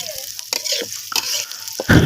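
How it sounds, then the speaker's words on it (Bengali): Chopped onions fry in hot oil to make birista, a crackling sizzle broken up by several scraping stirs of a spatula in the pan, close and fairly loud. "প্রথমে আমরা বেরেস্তাটা ভেজে নিব পেঁয়াজ কুচি দিয়ে"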